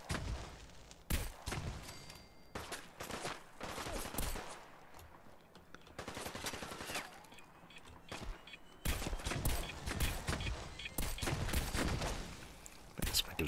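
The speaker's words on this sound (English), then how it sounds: "Shotgun barrel making quick work of these guys." A shotgun fitted with a heating barrel fires repeatedly in Fallout 4 combat, delivering bursts of loud, sharp blasts in rapid clusters separated by brief pauses, mixed with game effects.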